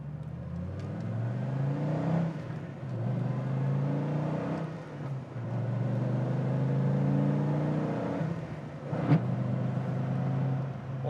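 A 2008 Dodge Viper RT/10 accelerates hard on the road, its engine droning loud and close with rising revs and gear changes.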